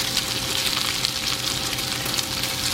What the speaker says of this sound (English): he flips the bacon after he's gone all the way down and scraped all the grease off the one side